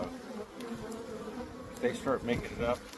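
Honey bees in a hive opened for a mid-winter check with fondant and bee pollen, humming in a close, steady buzz throughout, with a voice talking over the latter half.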